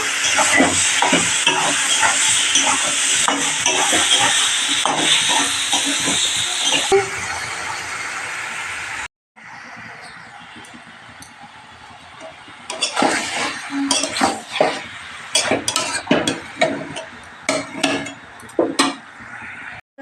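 Flat beans and eggplant fry with spices in a hot pan, producing a loud, steady sizzle with scraping stir strokes. There is a short break partway, then more crackling and clattering stirs.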